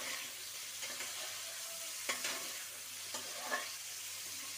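Boiled chicken noodles frying in a pan at home, a steady close sizzle with occasional stirring scrapes and soft clinks against the pan.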